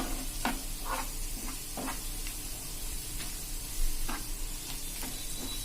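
Spices for a curd sabzi roast in a pan over a slow flame, with a quiet, constant frying hiss. Soft spoon scrapes repeat every half second or so.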